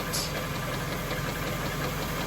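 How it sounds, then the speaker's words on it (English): A car's air-conditioning compressor running while the engine idles, a steady, fairly quiet mechanical hum with a faint even rhythmic pulse and no talking. "So I'm listening to the compressor at the moment"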